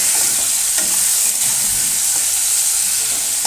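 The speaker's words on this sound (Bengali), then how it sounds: "আলুটা একটু ভাজা ভাজা হলে গোটা গরম মশলা দিয়েছি ফোড়নে।" Potato pieces sizzle in hot oil with a tempering of whole garam masala, a dense, constant hiss and crackle close by, broken by faint stirring scrapes, with no voices.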